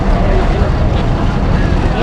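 Speedboat heading to Coral Island off Pattaya, a loud, close engine roar with wind and water rush throughout this short stretch.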